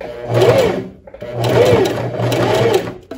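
Domestic sewing machine stitching the seam joining a puffed long sleeve into a blouse armhole, running over two pins; steady close motor whir in two bursts with a brief pause between, no talking.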